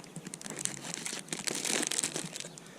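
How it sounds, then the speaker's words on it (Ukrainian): Polyethylene outer bag of a French military ration pack crinkles and crackles close up as it is handled, a dense run of sharp rustling with no speech. "Ось такий пакет поліетиленовий"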